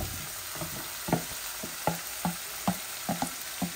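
Chicken pieces fry with tomato in a pan, a steady close sizzle broken by repeated soft stirring scrapes at a loose, regular rhythm, no talking.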